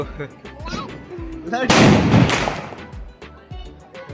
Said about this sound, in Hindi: पटाखे फोड़ रहे भाई, खतरनाक।